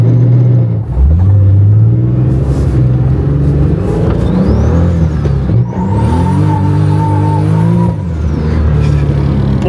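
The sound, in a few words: modified BMW E82 car engine revving, exhaust popping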